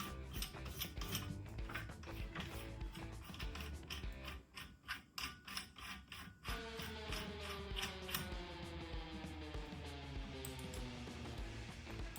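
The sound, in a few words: flat file grinding metal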